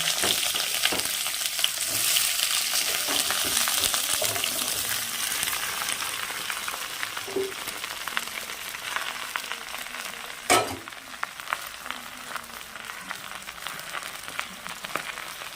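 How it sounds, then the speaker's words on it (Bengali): Taro (kochu) greens sizzle and crackle in hot oil with nigella seeds, a steady close frying hiss with occasional stirring clicks and one sharper clatter. "কালো জিরেটা হয়ে গেলে এইবার কচুটা আমি ঢেলে দেবো"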